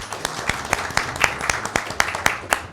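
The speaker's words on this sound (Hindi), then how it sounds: "मैं आप सबको, आप सबकी भरपूर तालियों में वेलकम कहता हूँ" Sparse, rhythmic claps ring out as an audience welcomes guests at an Easter family gathering, a steady run of sharp hand claps at a moderate, slightly uneven pace.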